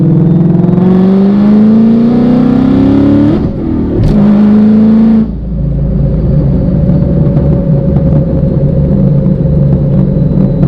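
A Whipple-supercharged 2016 Ford Mustang GT makes a hard acceleration pull on the street, its engine note rising loud and steady, dipping briefly at a gear change, then climbing again with a continuous heavy rumble.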